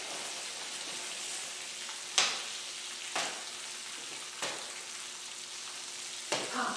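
Popcorn pops in a microwave, a few sharp, separate pops spaced seconds apart over a constant sizzling hiss and hum.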